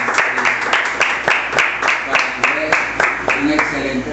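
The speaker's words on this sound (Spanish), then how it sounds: "pues eso merece, antes de decirles la nota, pues merece un aplauso." Audience applause after an academic presentation, a steady, fairly close clapping with regular pulsing bursts that continue evenly for several seconds while a voice talks faintly beneath.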